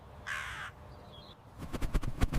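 A crow calls outdoors in a short series of harsh caws near the end, after a quieter stretch with a faint bird chirp.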